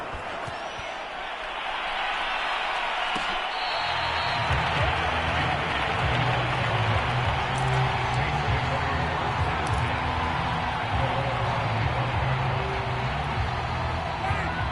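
Steady stadium crowd roar from a Madden NFL football game on PS4, a broad continuous wash of cheering that swells slightly after the opening seconds and holds at a constant level throughout.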